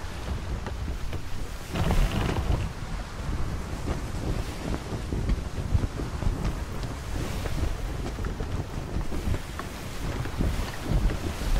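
Strong wind buffets a sailing brig out on the water, a continuous rushing roar with gusty swells and a broader surge partway through, no voices.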